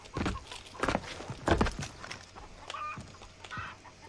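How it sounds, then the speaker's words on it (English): A chicken clucks inside the video game Far Cry 3, a few short bursts at moderate distance mixed with other game ambience and movement sounds. "I hear a chicken."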